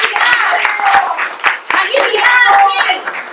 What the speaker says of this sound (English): Clap it up for that man.